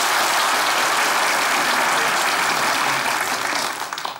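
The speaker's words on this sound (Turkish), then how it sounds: "Onu bilenler alkışlayabilir mi?" A studio audience at a Turkish comedy sketch show bursts into full, steady applause that fills the room, holding strong and then tapering slightly at the end.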